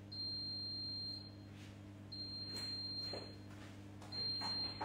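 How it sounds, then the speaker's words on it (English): Kitchen oven beeping after preheating to 180 degrees on circulating-air setting: repeated steady electronic beeps in three bursts, moderately loud over a low constant hum. "my oven was beeping because you got to preheat your oven to 180 degrees"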